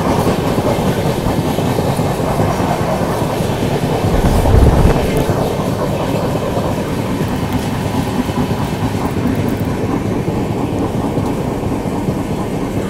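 The Sealdah Rajdhani Express passenger train runs on the parallel track in India, making a loud, steady roar of rolling wheels and rail rumble with a rhythmic clatter throughout and a brief surge partway through.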